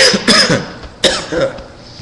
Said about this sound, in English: Already coughing.